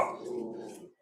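A dog barks close by in a short burst, a single loud bark that quickly trails off, heard indoors during a trading card break.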